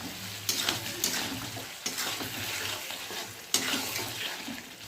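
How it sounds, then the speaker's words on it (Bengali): Chopped tomato sautéing in a mustard paste fish curry over lowered gas heat, a steady close sizzle with stirring scrapes and a few sharper clinks of a utensil against the pan. "গ্যাসের আঁচটা কমিয়ে দিলাম, একটু কষিয়ে নেব।"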